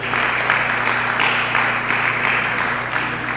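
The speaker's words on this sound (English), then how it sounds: "So let us give them a round of applause, please" Steady audience applause fills a conference hall, dense and continuous with no voices rising above it, holding at an even level throughout.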